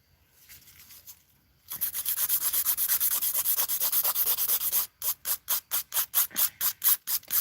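After a quiet start, a 100-grit file sands dip powder nails in fast, continuous rasping strokes. These then break into distinct, evenly spaced back-and-forth scrapes, close and clear, with no talk.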